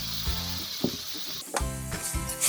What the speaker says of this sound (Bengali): এরপর ভাজা মাছগুলো দিয়ে দিব।